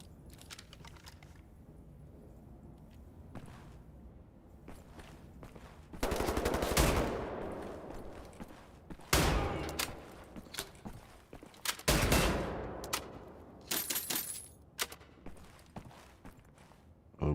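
Bursts of gunfire from the shooter video game Wolfenstein come in several short volleys, sharp and fairly loud over quiet background clicking of keys between shots.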